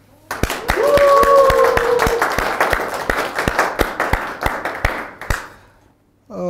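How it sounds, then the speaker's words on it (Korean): Indoor audience at a society meeting clapping in steady rhythmic applause that swells loudly, then thins into scattered claps before fading to near silence, with a couple of brief vocal whoops early on. "2023년도 첫 달마토를 환호와 박수로 시작을 하겠습니다."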